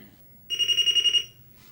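A single electronic beep from an Apple IIe Enhanced computer's self-test, a steady high tone with a slight pulsing warble lasting under a second, clear against near silence.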